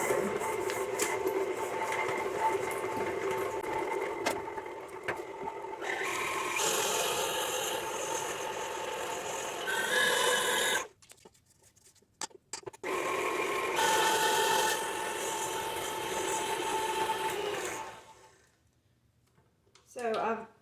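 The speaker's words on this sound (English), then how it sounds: "I've let that beat up in my mixer for a couple minutes, just until it's nice and creamy" An electric stand mixer runs steadily while creaming a chocolate chip granola bar mixture with vanilla. It whirs loudly for about ten seconds, stops briefly, then runs again and cuts off near the end.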